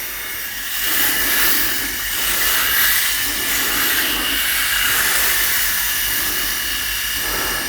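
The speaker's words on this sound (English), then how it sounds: "let's fire up the shaver and get going" A Philips Pro 5000 series electric head shaver runs close by, a steady high buzzing whir with a slightly wavering tone, heard alone without speech.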